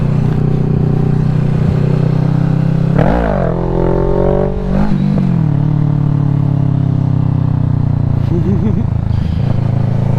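Motorcycle engine revving hard as the rider pops a small wheelie, pitch swooping up and down through several throttle blips, loud and close-up amid steady wind and engine drone.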